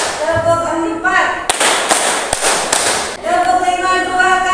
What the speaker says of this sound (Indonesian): Sekarang kita bermain tepuk dulu